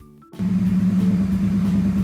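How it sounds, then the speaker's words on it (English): Car engine running steadily on the road, a continuous mid-pitched drone that starts abruptly after a short quiet moment and holds at a loud, even level. "Car."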